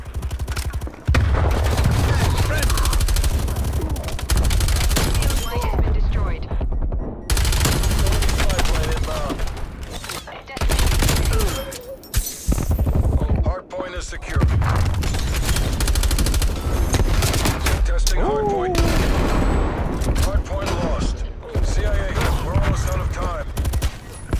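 Rapid bursts of LC10 submachine gun fire from Call of Duty Black Ops Cold War, dense and loud, repeating across the whole stretch with brief gaps, mixed with game effects and a player talking over it.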